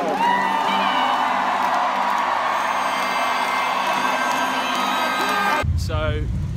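Comedy club audience in Dublin roaring, whooping and cheering in a loud, sustained wave that cuts off abruptly near the end.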